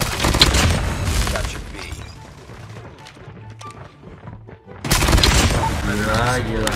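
Fennec submachine gun firing in a fast-paced shooter video game, loud rapid bursts of automatic fire at the start and again after a short lull, with spoken voices underneath.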